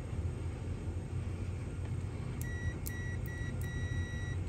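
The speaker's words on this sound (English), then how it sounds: "You can hear the bleeping" A multimeter in continuity mode beeps while probing a Baofeng speaker mic audio jack, giving a few short, clear electronic tones in the second half over a steady background hum.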